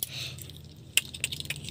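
Car keys jangle on a ring for a newly bought small car, a quiet metallic clinking with a few sharper chinks near the middle and end, close by over a low steady hum, with no voices.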